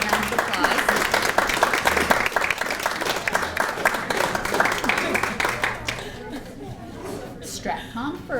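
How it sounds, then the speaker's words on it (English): A graduation reception audience applauds the graduates, dense clapping that thins out toward the end as chatter and laughter take over. "let's give them a round of applause"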